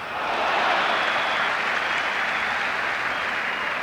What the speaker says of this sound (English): Great applause for Ron from the crowd and from his captain for the save